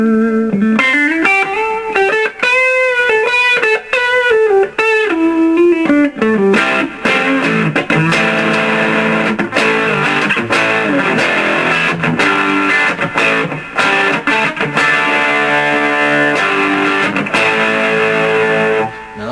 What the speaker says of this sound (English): Next we've got Brick Combo. This one is quite nice, based on a Vox AC30.